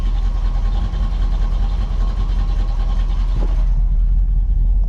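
Engine of a car idling steadily in neutral after a burnout, a continuous low rumble close up with a faint brief shift near the end, no talking.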